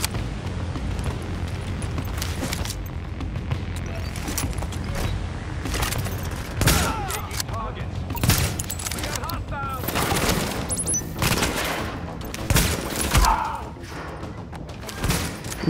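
Scattered gunfire and heavy thuds from a shootout with a sniper in The Division, with irregular shots and bursts over about fifteen seconds under ongoing talk between players.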